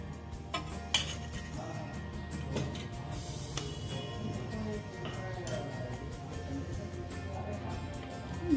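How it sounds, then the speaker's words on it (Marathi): Gram flour roasting in ghee in a pan, stirred with a utensil: steady metallic scraping and clinks against the pan, close and moderately loud, with a few sharper knocks. "बेसन अर्धी वाटी घेतलं तर आता छान भाजून घेऊया आपण"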